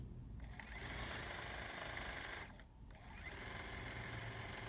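A sewing machine stitches quilt seams on an Americana sampler quilt, a fast steady whirring hum that pauses briefly midway and then resumes, close and alone.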